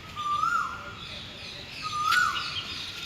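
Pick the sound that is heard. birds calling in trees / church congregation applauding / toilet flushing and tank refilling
birds calling in trees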